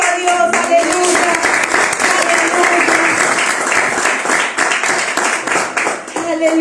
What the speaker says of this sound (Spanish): Dale fuerte aplauso a Dios